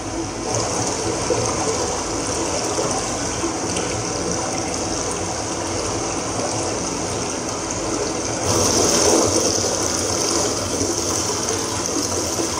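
The Cinca river near San Mauricio flows in a steady broadband rush of water, continuous and fairly close, swelling slightly louder toward the end, with no voices.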